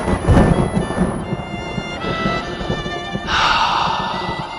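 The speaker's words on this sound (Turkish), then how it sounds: "Burada yağmur yağıyor." Heavy rain pours steadily while low thunder rumbles through, the downpour swelling louder toward the end; no voices.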